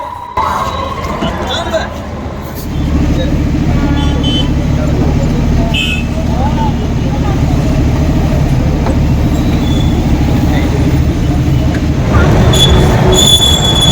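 A passenger train, the Mangala Lakshadweep Express, stands or moves at Hazrat Nizamuddin railway station in Delhi. After a quieter opening it gives a steady, loud rumble of rolling wheels, with faint voices in the background.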